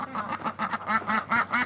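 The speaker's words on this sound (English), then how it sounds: "Ducks are having a bit of a fit." Ducks quack close by in a quick, agitated run of about eight nasal calls in under two seconds, loud and alone with no speech.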